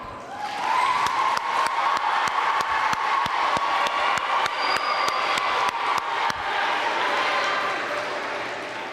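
Sustained audience applause at a middle school awards ceremony for sixth and seventh graders, steady dense clapping filling the room for about nine seconds before easing off at the end.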